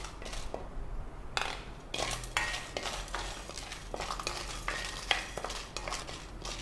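Spices and red chilies roasting in a heavy-bottomed pan, with repeated scraping and stirring strokes, light clatter and a faint dry sizzle, fairly close and steady, no talking.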